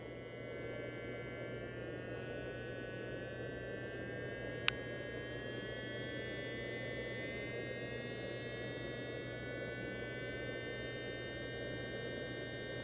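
A small fan motor in a model train smoke unit runs with a steady electric hum and high whine, holding an even level throughout, with one brief click partway through.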